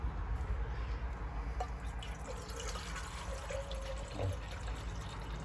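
Water pours steadily into a disposable noodle pot outdoors at an allotment, a soft continuous trickle with faint drips, quiet and close.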